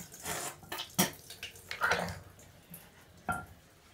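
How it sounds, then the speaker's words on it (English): Tap water splashes as a face is washed at a bathroom sink, with irregular nearby splashes, drips and slaps of wet hands, fairly quiet and broken into short bursts. "And then I wash my face."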